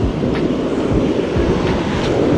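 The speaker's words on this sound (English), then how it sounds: "The slow flow of waves." Ocean waves roll in slowly by the shore during a fishing outing, a steady low rumbling wash with soft surges and light wind on the microphone, and no voices.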